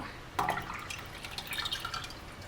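Red chile sauce poured into pozole broth, a short wet splash and dribbling liquid heard up close, fairly quiet with no voices over it.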